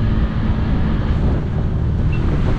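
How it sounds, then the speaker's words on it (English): A Can-Am Commander XTP side-by-side drives along with a steady, loud low rumble mixed with buffeting wind noise throughout a short stretch, with no talking. "We're gonna take the Commander XTP for a ride here."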